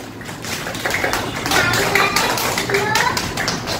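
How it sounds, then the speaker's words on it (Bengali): Children in a classroom clap their hands together in a loud, fast, uneven patter of many close claps that runs throughout, mixed with young voices talking and calling out. "শাবাশ, আমাদের জন্য একটা জোরে হাততালি হোক।"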